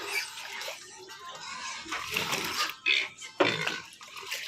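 Black pigs, kept as wild-type and black pig stock, feeding noisily up close: wet snuffling, slurping and grunting bursts in an irregular rhythm, with a few louder snorts and splashy mouthing of mushy feed.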